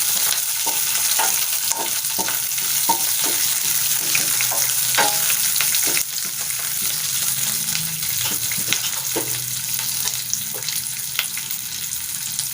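Mustard and cumin seeds sizzle steadily in oil, crackling and spitting in quick, irregular pops, close by, with a few soft clinks of a utensil and no talking.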